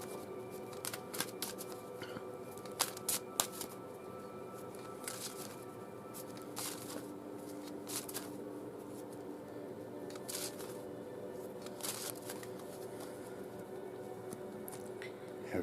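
Oracle cards being shuffled by hand in a quiet room, a steady soft riffling and patter of card stock that runs throughout, with a few sharper flicks and slaps standing out.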